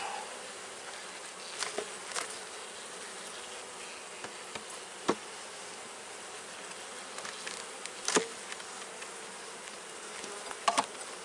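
A dense, steady buzz of many honey bees swarms around a honey box being cleared with a fume board, filling the air close by with occasional faint knocks and clicks.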